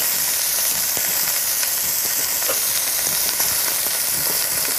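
Diced lardons frying in oil in a pan, giving a steady, dense sizzle and hiss with small crackles that stays loud and even throughout, with no talking.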